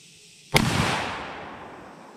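A single loud, close rifle shot from a long-range gun, an abrupt crack followed by a rolling outdoor echo that fades over about a second and a half.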